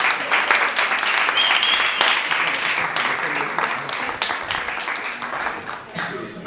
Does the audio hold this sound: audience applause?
yes